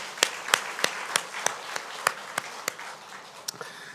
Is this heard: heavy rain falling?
no